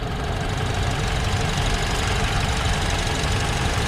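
A car A/C blower motor with worn brushes runs in a Honda, giving a steady, rough whirring with a faint knocking texture. It holds at an even loudness for the whole few seconds.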